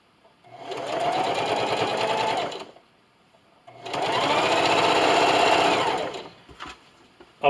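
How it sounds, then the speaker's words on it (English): A sewing machine stitches binding onto a Halloween quilt-as-you-go table runner in two sustained close runs of rapid whirring needle motor, separated by a short pause, ending with a few clicks and a clunk. "Now I'm just going to stick it back under my sewing machine."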